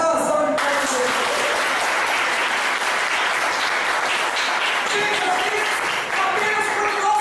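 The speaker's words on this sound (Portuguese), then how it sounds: "Pode dar uma salva de palmas para ele." A church congregation bursts into sustained applause, dense steady clapping from many hands filling the room for several seconds after a brief opening moment.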